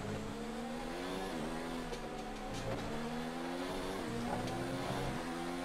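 F1 cars from the video game F1 2019 head into the pit lane at the Russian race, engines droning and shifting pitch, with faint tire squeal as the cars slow.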